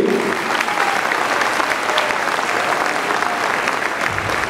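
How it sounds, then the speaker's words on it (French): Loud, dense audience applause at a speech to a community gathering, sustained clapping at steady strength throughout with faint crowd murmur beneath. "On les remercie et on les applaudit"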